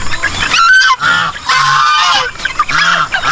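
Geese honk loudly and close by on a farm, several harsh, nasal calls in quick bursts with short pauses between them.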